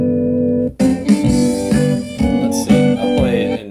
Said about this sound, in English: I have regular double stops, which sound like this.